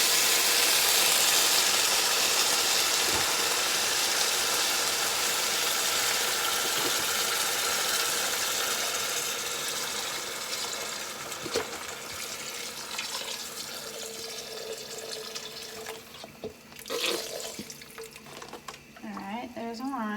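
Chicken broth is poured into a pot for homemade chicken noodle soup, a steady loud rushing splash that gradually thins out into sloshes and drips, with a voice speaking toward the end.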